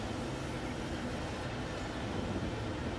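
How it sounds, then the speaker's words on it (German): A train passing in Transport Fever 2 gives a steady, broadband rumble that holds constant and fairly loud for a few seconds with no speech over it. "Und jetzt müsste uns hier auch noch ein Zug dann entgegenkommen"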